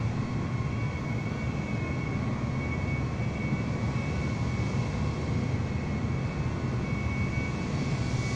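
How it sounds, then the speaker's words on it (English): Airbus A320 engines spooling at full takeoff power in Microsoft Flight Simulator 2020, a steady, loud, broad roar with a faint whine, continuous and unbroken with no voices. "giving full power at the A320 and he's starting his"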